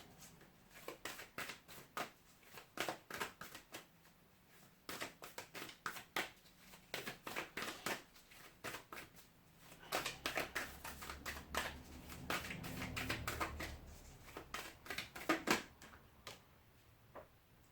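Tarot cards being shuffled by hand, quiet crisp riffling and slapping bursts in irregular runs with brief pauses between shuffles, close up and soft.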